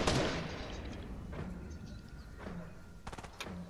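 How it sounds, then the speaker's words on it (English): Gunfire in a shooter video game: a loud, close blast at the start, followed by several sharper, more distant cracks spaced a second or so apart, with no talking. "Someone just almost sniped me from the west"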